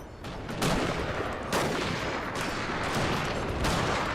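Sharpshooters fire rifle volleys in Total War: Fall of the Samurai, overlapping cracks of musketry rolling in waves over constant battle din.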